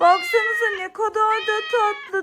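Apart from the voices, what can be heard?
kitten meowing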